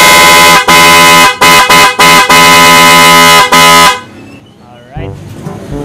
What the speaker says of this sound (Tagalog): Testing din natin. PIAA horn.